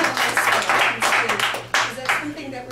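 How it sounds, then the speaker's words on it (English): A small audience claps at a talk with a chef at a community venue, with clustered bursts of hand clapping and a voice speaking over them, fairly close. "Let's give them a round of applause."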